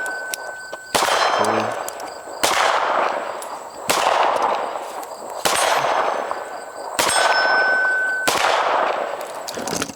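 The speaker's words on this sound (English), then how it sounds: "I'm gonna shoot 6 rounds each" Rifle shots fired with iron sights at an outdoor range, each followed by a ringing clang of steel targets; several sharp, loud reports spaced a couple of seconds apart, with no talking.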